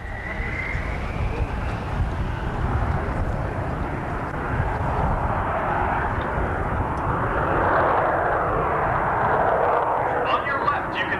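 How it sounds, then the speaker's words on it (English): A WWII-era aircraft's engines roar steadily as it begins its takeoff roll at a 1994 Confederate Air Force air show in Midland, Texas, loud and rumbling with wind noise and swelling slightly toward the end. "you can see Captain McIntosh beginning the takeoff roll"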